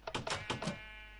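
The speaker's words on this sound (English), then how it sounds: "And we have a pig." A pig in Minecraft gives a short burst of quick, close grunting calls, four or five clipped squeals packed into about a second before falling quiet.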